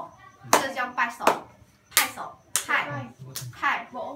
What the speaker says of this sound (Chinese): 拍就是拍手，这叫拍手。